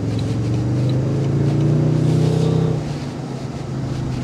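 A 2024 Toyota Tundra 1794 pickup with a 389-horsepower twin-turbo engine pulls away under acceleration, a loud, close engine drone that swells and rises in pitch and then eases off. No one speaks over it.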